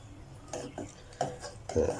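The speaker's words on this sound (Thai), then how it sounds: "วันนี้ผมไม่ได้ใช้น้ำมันนะอ พอเริ่มร้อนแล้ว เดี๋ยวผมจะตอกไข่ลงไปตรงกลาง" An egg is cracked into a hot, dry pan without oil over low heat, giving a handful of sharp, close taps and clicks spaced irregularly, with no one speaking.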